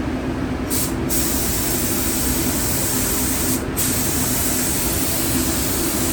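A spray gun shoots a coat of sealer on a Delaware State Police project in a continuous loud, close hiss with two brief interruptions where the trigger eases off.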